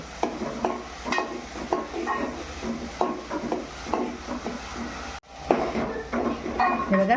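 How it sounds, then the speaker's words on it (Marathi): Onion paste is stirred and fried in a pan with a spoon scraping and knocking against the pan in repeated strokes over a constant low sizzle, with a brief break before the stirring picks up again. "कांदा शिजत तोपर्यंत आपण असा परत परतूनच घेऊ"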